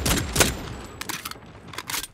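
Several sharp gunshot bursts from a heist game mode, spaced irregularly across a short stretch, loud and close, with quieter ambient game noise between volleys and no talking.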